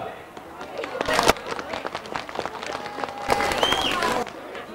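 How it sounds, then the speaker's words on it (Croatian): Children at a Santa Claus (Djed Mraz) event in Šamac clap in scattered, uneven bursts with some shouting and loud voices mixed in, the applause swelling in two louder waves. "jedan aplauz za našeg Djeda Mraza"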